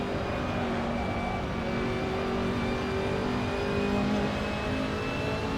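A racing car engine in Assetto Corsa drones and revs steadily, the pitch climbing and shifting as gears change, loud and continuous with no talking.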